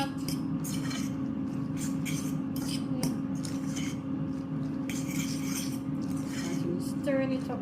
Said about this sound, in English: Stirring it up, guys.